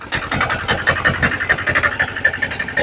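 Auto rickshaw engine running at a low idle while a learner lets the clutch out, a steady rhythmic putter with pulsing beats, close and fairly loud, no talk over it.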